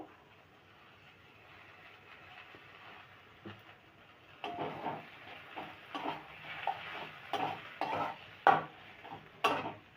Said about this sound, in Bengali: এবার এটাকে ভালোভাবে নেড়ে চেড়ে মিশিয়ে নেব